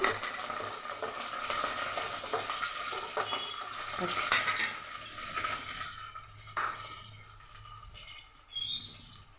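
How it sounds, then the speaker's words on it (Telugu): Curry leaves and black gram dal crackle and sizzle in hot oil in a pan while being stirred, a steady frying hiss with scraping stir sounds and a few sharper pops near the end, with no talking. "దోరగా వేయించుకోవాలి. కరివేపాకు కూడా వేసేస్తున్నాను."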